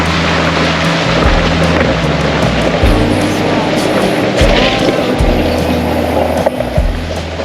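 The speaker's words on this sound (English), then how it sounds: "A little bit of a water crossing coming out to Crab Claw." A vehicle fords a creek water crossing on the track out to Crab Claw Island, with a loud, close, continuous rumble of engine and churning water and uneven surges throughout.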